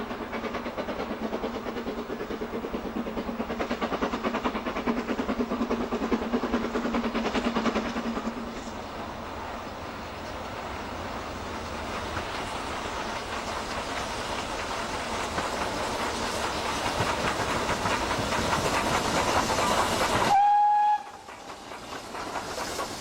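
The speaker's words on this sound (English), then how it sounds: "the 9F, the king of the British freight locomotives" A British Railways Standard 9F steam freight locomotive rolls past with a steady, loud rumble and clatter of wheels. Near the end the noise drops away and a short whistle sounds.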